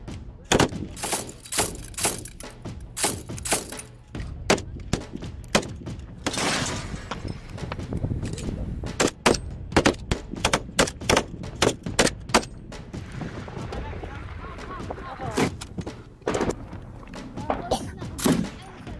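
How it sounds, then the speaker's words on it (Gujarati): Rapid gunfire from a heavy two-sided firefight in the Syrian war crackles in sharp, irregular bursts and single shots, some loud and close, others more distant, with voices faintly mixed in underneath. "બંને તરફથી જબરદસ્ત ગોળીબારી ચાલી રહી હતી."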